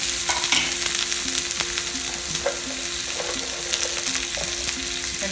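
Mustard seeds, onion and curry leaves crackle and sizzle steadily in hot oil while tempering for a kadamba sambar, with occasional sharp pops and stirring clicks throughout, close and without talk.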